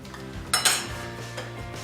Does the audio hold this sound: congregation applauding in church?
no